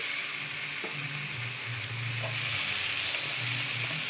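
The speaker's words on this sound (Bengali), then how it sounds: "এই এই তরকারিতে পেঁয়াজটা এরকমই ভাজে।" Onions and spice paste fry in a pan for a rohu fish curry, giving a continuous close sizzle with occasional stirring scrapes and soft pops, no talking.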